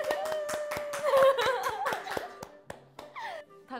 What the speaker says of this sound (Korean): 박수 여러분!